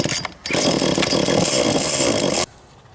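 A cheap Wemars chainsaw roars to life, its engine running loud and steady for about two seconds before cutting out abruptly into quiet.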